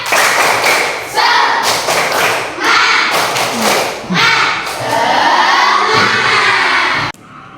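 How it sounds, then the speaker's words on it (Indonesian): A classroom of schoolchildren standing up performs the tepuk semangat spirit clap, loud rhythmic group clapping in patterned bursts mixed with shouted chanting, ending abruptly. "Kita mau tepuk semangat ya."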